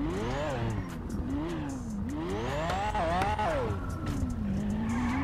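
In GTA 5, an Evo 2 car drives hard, its engine revving up and down in repeated swells while the tires squeal and skid, loud and close throughout.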